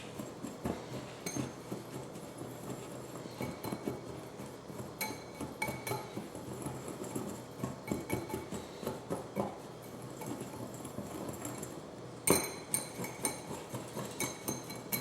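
A utensil mixes seasoning with cayenne in a bowl for blackened shrimp tacos, giving a steady stream of light clinks and scrapes against the bowl, fairly quiet and continuous, with one sharper knock near the end.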